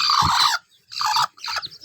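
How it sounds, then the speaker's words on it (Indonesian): Native village chickens (ayam kampung) cluck and squawk in three loud, close bursts separated by short pauses, with no talking. "Jadi kita harus memisahkan anakan ayam kampung kita ini,"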